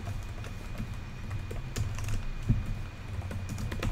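Quick, uneven typing on a computer keyboard while writing a Roblox Studio script, with close, light key clicks in short clusters and no voices.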